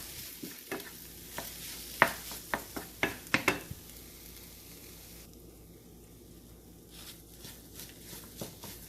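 A spoon stirs a beetroot and banana masala cutlet mix, giving a series of soft scraping and clicking strokes in uneven bursts, with a faint sizzle underneath.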